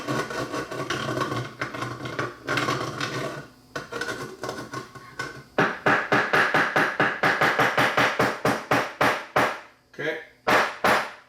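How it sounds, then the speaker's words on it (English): A VCOM Agile modulator circuit board is tapped and knocked during repair, giving sharp, close percussive knocks. They come in irregular bursts at first, then settle into a rapid series of evenly spaced raps, with a voice talking over part of it. "we're really smacking it in here, but tapping on the board lightly"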